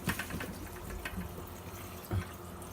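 Water running through a pipe to refill an aquarium tank during a water change, a steady close trickling flow with splashy gurgles and a louder surge near the end.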